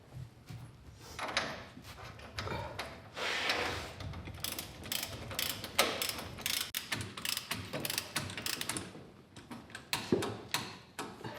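A socket wrench ratchets while tightening a bolt on the steering of a Dodge Ramcharger, making rapid close clicking bursts that repeat in uneven runs of pawl ticks.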